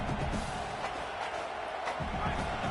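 A stadium crowd roars at a football game, urging on its defense. The sound is a dense, constant wall of cheering and noise, loud and unbroken from start to finish.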